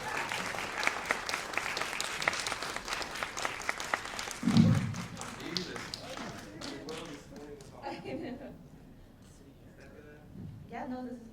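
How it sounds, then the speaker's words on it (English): A film festival crowd at Lincoln Center applauds director Aimee Long and actor Kenny Leu. The clapping is loud and dense at first, then thins and fades out, and talk follows near the end. "So please everybody give them a warm round of applause as they are here especially to introduce the film."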